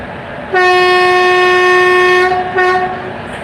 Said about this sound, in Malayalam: അത് നമ്മൾ വന്ന ട്രെയിൻ